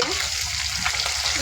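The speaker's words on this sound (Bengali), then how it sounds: "এবার মাছটা আমরা উঠিয়ে নেব। মাছ ভাজা হয়ে গেছে।" Pangas fish sizzling in hot oil in a frying pan, a constant crackling hiss broken by a few soft stirring scrapes, close up, with no one speaking.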